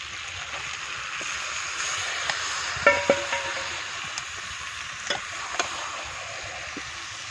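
Meat goes into a pan of potatoes frying with chilli, giving a steady close sizzle with a few soft knocks and stirring clatters on top, and no voices.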